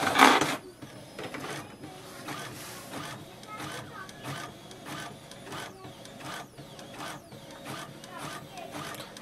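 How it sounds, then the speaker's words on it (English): A Brother MFC-J497DW all-in-one inkjet printer prints a document, its print head shuttling in a steady repeating rhythm of mechanical whirs and clicks close by, with a voice talking over it at times. "So we'll see how long it takes for the print."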